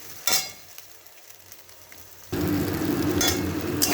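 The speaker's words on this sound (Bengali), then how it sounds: "এটার মশলা ভালো করে ভাজা হোক" Spices with water and salt for a cauliflower, potato and koi fish curry start sizzling in a pan, with a sudden loud, steady fry after quiet stirring and a faint clink.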